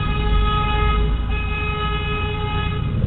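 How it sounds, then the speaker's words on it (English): Car horns blare in a sustained, loud toot as vehicles pass by on the road, a steady honk held for a few seconds without talk. "it seemed like every single one of them was driving by honking the horn"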